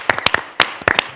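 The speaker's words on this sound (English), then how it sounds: "could we have a round of applause from the panel in Madrid for our foreign guests" A small panel audience in a Madrid conference room gives brief, scattered applause for foreign guests at an international forum, with a handful of separate sharp claps rather than a dense ovation.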